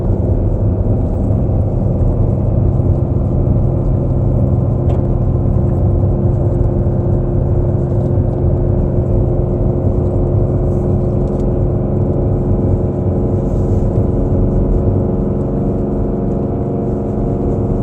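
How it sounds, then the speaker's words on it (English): A 2019 Ram Heavy Duty pickup towing trailers downhill with its exhaust brake engaged around 2,800 RPM, giving a loud, steady, unbroken low engine drone and rumble throughout with no talk. "Exhaust brake's doing a pretty good job holding on"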